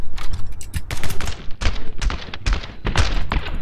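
Rapid bursts of gunfire fill a fast action shootout in the video game My Friend Pedro, loud, dense shots with thumping impacts coming in quick clusters without a break.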